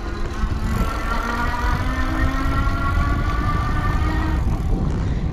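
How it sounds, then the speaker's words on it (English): A Surface 604 e-bike motor strains while climbing a hill, giving a steady whining hum over constant rumbling wind and road noise from start to finish. "You can really hear that motor working"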